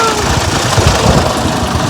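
Farm tractor engine running steadily for a field trip, a loud continuous low rumble with rattling throughout, no voices.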